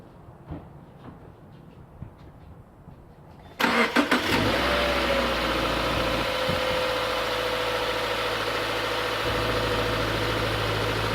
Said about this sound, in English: We'll turn the engine on again.